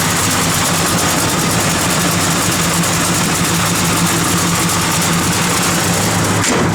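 A 1972 Chevrolet Monte Carlo with a lumpy, aggressive cam idles steadily up close, its loud low rumble pulsing unevenly and running on its own with no voices.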